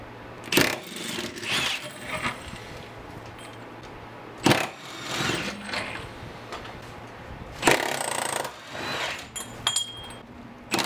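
A power tool takes out the rear subframe attaching bolts on a white BMW E36 sedan, with three loud, separate bursts of whirring and rattling spaced several seconds apart and quieter clanking and shuffling between them.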